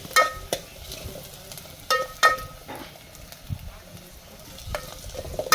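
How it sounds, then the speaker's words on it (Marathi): Onion frying in a pan over a village cooking fire for a country chicken dish, a steady sizzle broken by several sharp scraping stirs of the spoon, close and moderately loud with no talking. "बघा आपला कांदा भुजत आलेला आहे जवळपास पाच एक मिनटं तरी हा कांदा भुजून घ्यायचा"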